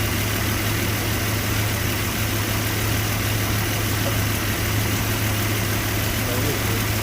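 A farm Jeep engine idles steadily and close, a constant low rumble with a deep hum that holds unchanged throughout.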